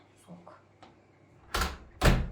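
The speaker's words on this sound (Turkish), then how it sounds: "Ört kapıyı ört." A door closes indoors in two quick heavy thuds or bangs near the end, after faint shuffling and light knocks.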